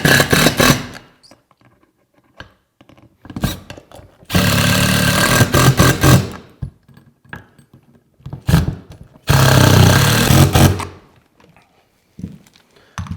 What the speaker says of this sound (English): I'm going to grab my impact that has a number 3 Phillips tip on it